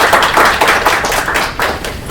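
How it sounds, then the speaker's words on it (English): A short burst of clapping for professors from a small audience at a campus leadership panel, close and fairly loud with uneven claps and thuds, no talk. "let's also give a round of applause to our professors as well"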